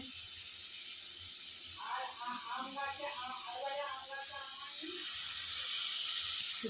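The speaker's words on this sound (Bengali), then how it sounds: "তাই মাংসের জন্য আলু ভাজা হচ্ছে" Small potatoes fry in hot oil in a pan, giving a steady bright sizzling hiss that builds slightly toward the end. Someone talks softly underneath in Bengali.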